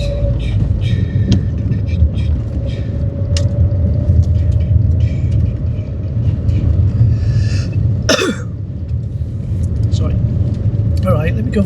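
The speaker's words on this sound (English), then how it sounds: "sorry, I'm coughing." A driver coughs and clears his throat inside a Toyota Paseo on a drive through the Vale, over a steady low engine and road rumble with a voice now and then.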